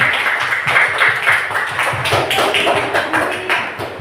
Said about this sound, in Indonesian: Akan kita berikan tepuk tangan yang meriah kepada kelompok 2